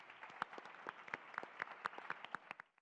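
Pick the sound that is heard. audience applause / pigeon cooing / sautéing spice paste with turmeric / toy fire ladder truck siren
audience applause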